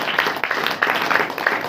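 A church congregation clapping during a Hindi Christian worship meeting, quick rhythmic claps from many people at a steady beat, moderately loud with some room echo.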